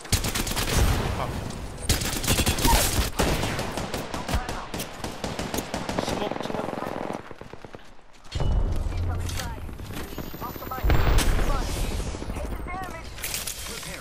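Sustained enemy gunfire in a first-person shooter match, bursts of rapid shots and volleys crackling close and loud for most of the stretch, briefly easing before resuming, with a player talking over it.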